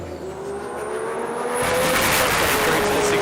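A drag racing car with a roughly 2,500-horsepower RB engine launches at a sports compact drag meet, its engine roaring louder as it revs up and pulls away, loud and close, with tyre noise.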